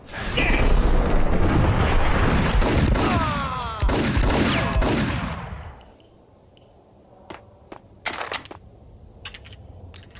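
Gunfire from the video game Max Payne opens as a loud, dense volley lasting several seconds, then thins to a few sharp, isolated shots against quieter background sound.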